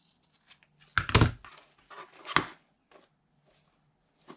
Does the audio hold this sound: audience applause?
no